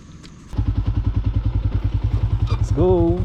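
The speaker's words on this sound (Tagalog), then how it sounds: "Buhay yung motor ko ah." A motorcycle engine idles and runs with a steady, rapid thumping pulse, close and loud, during a stop on a mountain road loop; a voice speaks briefly near the end.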